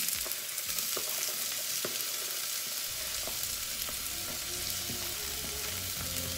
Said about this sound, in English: To that, I want to add my garlic and my onions.